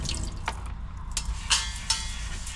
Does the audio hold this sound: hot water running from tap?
yes